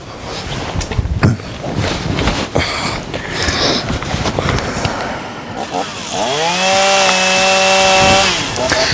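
A chainsaw engine revs up to a loud, steady buzzing drone after a stretch of rustling and clattering noise.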